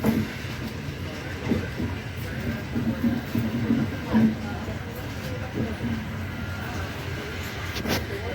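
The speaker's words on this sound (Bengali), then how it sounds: "এই যে খড়গপুর ঢুকলো গাড়িটা" A train pulls into Kharagpur station with a low, steady rolling rumble and faint clickety-clack of wheels. The sound is moderately loud and continuous, and a voice talks briefly over it.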